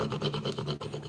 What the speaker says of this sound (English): Sand your wood, and you can use just a light grip, hand little piece of sandpaper